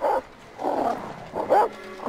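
Wolves in the survival video game The Long Dark give three rough barks at uneven intervals, the middle one drawn out and growly, moderately loud and close, with no talk.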